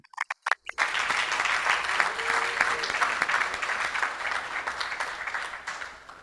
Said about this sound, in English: They give, yes, a round of applause for those women.